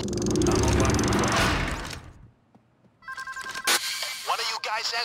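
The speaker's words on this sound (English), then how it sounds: "One of you guys answer the phone and pass me through." A telephone rings in the Payday 2 heist game during a GO Bank stealth job, a loud ringing tone heard first under rumbling game noise and voices, then as separate bursts of rings after a brief near-silent gap.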